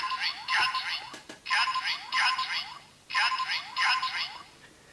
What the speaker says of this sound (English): you can press the phone icon to get some character phrases and various other sounds